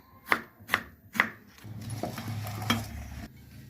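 Knife chopping country tomatoes on a cutting board: three sharp, close cuts in quick succession, then a duller stretch of scraping and handling with a couple of lighter knocks, no talking.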